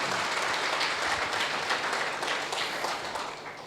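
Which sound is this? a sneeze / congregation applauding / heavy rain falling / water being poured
congregation applauding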